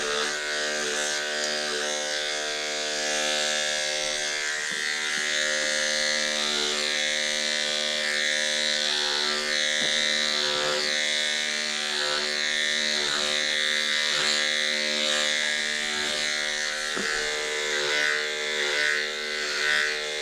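Electric clippers with a one-inch guard trim a standard poodle's coat, giving a steady, close electric buzz that holds for the whole stretch with slight shifts in pitch as the blade moves through the fur.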